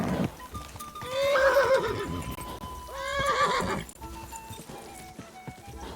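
A horse in the medieval game Kingdom Come: Deliverance II gives two loud whinnies over a running clip-clop of hooves, close and prominent.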